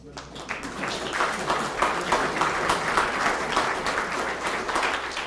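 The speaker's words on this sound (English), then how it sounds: "these guys deserve a warm applause" An art show audience breaks into warm applause for award winners, clapping swelling quickly from a quiet start into a steady, fairly close wash that continues to the end.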